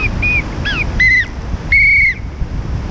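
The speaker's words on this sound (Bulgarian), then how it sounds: "Сега тук ще покажа тази свирка с компас и градуси мери, термометър има." A small novelty whistle fitted with a compass and thermometer blows several short, shrill toots, some with a bending pitch, then two longer held blasts, loud and close with no talking.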